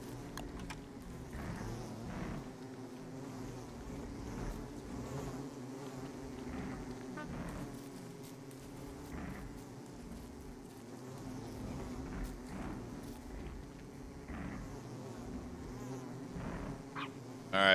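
Bees swarm on an island in the survival video game Don't Starve, a continuous low buzzing hum that swells and dips in soft pulses throughout, moderately quiet, with no talk over it.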